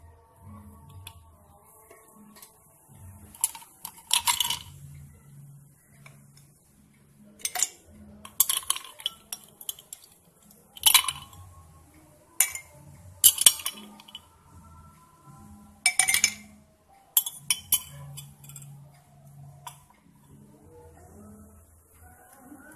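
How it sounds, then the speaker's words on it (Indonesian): Ice cubes dropped into a glass, several bright clinks and rattles in uneven clusters, close and moderately loud, with quiet handling noise between them. "Setelah itu kita masukkan es batunya."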